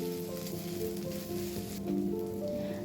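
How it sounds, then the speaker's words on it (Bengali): Ginger paste with chopped chilli and tomato sizzling and frying in a pan for tarka daal, a continuous close crackle with a brief stir partway through and nobody talking. "আদা বাটা দিয়ে ভালো করে ফ্রাই করে নেব"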